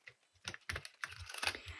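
Steampunk Tarot card deck being shuffled, a run of quick papery riffles and soft clicks repeating close up, with no talking.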